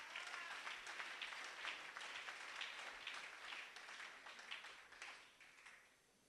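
Church congregation applauding steadily for the glory of God during a sermon, a dense wash of many hands clapping that fades out near the end.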